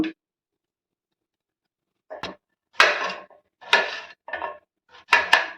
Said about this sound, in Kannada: ಈಗ ಇದನ್ನು ಸಣ್ಣಗೆ ಹೆಚ್ಕೋತೀನಿ